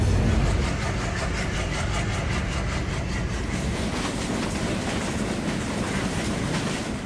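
The locomotive of the Kapotaksha Express, loco number 6602, rolls steadily onto a loop line with a continuous loud rumble and rhythmic clatter of wheels over rail joints, close by and with no voices.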